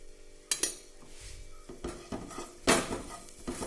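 A metal spoon stirs jackfruit seed roast with turmeric masala in a pan, giving sharp scattered clinks and scrapes against the metal with quieter sizzling stir sounds between them.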